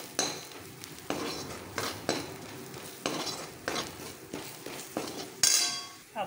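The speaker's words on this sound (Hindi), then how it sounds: "इसमें हम डालेंगे मसाले और हल्का सा भूनेंगे" Spices roasting in a pan for palak paneer, stirred with a spoon that scrapes and clinks against the metal in steady repeated strokes over a soft sizzle, close and clear with no talking.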